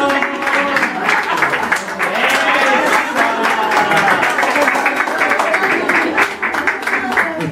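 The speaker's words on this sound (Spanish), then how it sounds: "Un aplauso para Exo" Audience at a baby shower party game clapping and applauding steadily and loudly for several seconds, with voices mixed in over the clapping.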